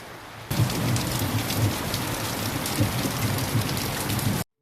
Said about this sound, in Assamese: এতিয়া চাওঁ একদম পুৰা বৰষুণ দি আছে